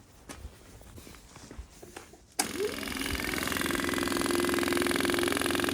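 An excavator's diesel engine cranks and catches after fuel pump repair, then settles into a steady, loud running drone following a few seconds of quieter clanks and shuffling.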